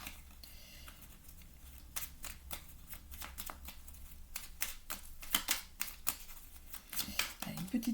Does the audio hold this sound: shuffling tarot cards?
yes